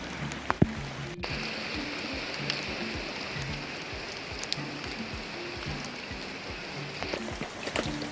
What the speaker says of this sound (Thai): ฝนตกทางด้านเราไล่เราไล่ตามหลังเราลงมาเลยนะครับ